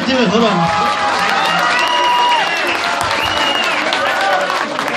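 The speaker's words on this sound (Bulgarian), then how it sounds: "Аплодисменти, бе, хора!" Audience applause and cheering at a live Bulgarian comedy show, a dense steady wash of clapping with crowd voices mixed through it, loud and sustained from start to finish.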